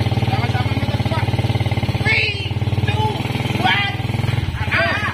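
An old three-wheeled motorcycle engine idles with a steady, loud, rapid thumping pulse throughout, while people talk over it and brief higher sounds cut in near the middle and end.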